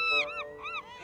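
Cartoon seagulls calling, two or three quick nasal honking squawks in a row, close and clear, with no talk.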